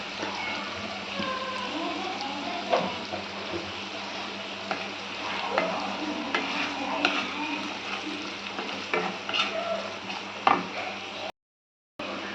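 Curry leaves and salted ingredients fry in a pan for a sorrel, tomato and moong dal curry, a steady close sizzle and crackle with occasional stirring clicks, cutting out briefly near the end.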